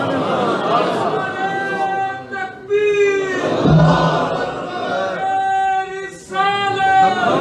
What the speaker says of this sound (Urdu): بھائی نعرے نہ لگائیں